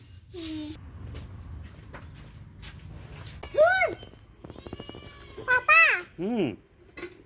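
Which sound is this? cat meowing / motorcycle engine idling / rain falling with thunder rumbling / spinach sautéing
cat meowing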